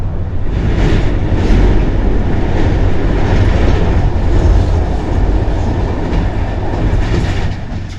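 A train rolls along the rails near Bohumín behind a Czech locomotive, giving a loud, steady rumble with faint rhythmic clicking of wheels over rail joints throughout, and no voices.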